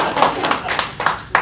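Scattered claps from a comedy club audience, a few sparse, uneven hand claps rather than full applause, with some voice mixed in.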